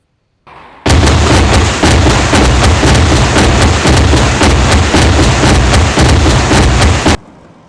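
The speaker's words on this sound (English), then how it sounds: "in order to operate the rocket launcher from inside" A rocket launcher fires in the military video game Arma 3, a dense, loud barrage of rapid rhythmic launches and booms running continuously for several seconds before cutting off abruptly.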